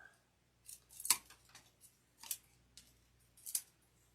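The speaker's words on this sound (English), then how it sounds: "Let's trim some of that crappy part off." Scissors snip through flower stems during a red magnolia top hat centerpiece arrangement, a handful of crisp isolated cuts spaced irregularly over a few seconds, close and fairly quiet against a silent room.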